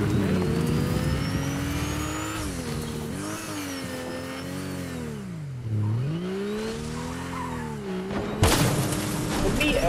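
A car in the Fortnite video game drives and accelerates, its engine drone rising and falling in pitch through several surges, with a crash-like burst near the end, while players talk over it.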